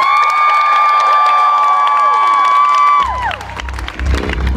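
A concert crowd cheers and whoops for the band, a loud sustained high shout held for about three seconds that breaks into scattered clapping and crowd noise.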